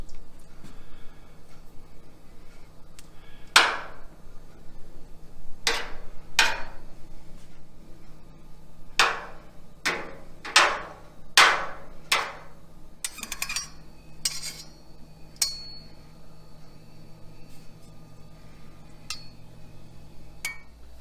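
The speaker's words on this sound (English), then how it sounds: "Now I'm going to take my spoon and gently stir and cut up any large curds that are left in here." Metal spoon stirring and cutting goat milk cheese curds in a pot for farmhouse cheddar: a dozen or so sharp, bright clinks against the pot, spaced irregularly and then clustered, over a quiet background.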